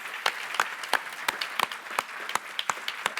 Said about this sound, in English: Let's give a round of applause to all the Category 2 honorees